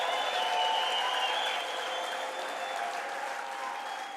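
A church congregation claps steadily during a sermon, dense sustained applause that is loud at first and eases slightly toward the end, with faint crowd murmur mixed in.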